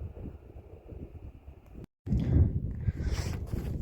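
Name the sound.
wind blowing on a mountain trail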